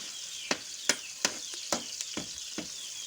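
Native chicken adobo sizzling in a pan while being stirred, a continuous bright hiss punctuated by about eight sharp utensil scrapes and clacks at a fairly even rhythm, close up.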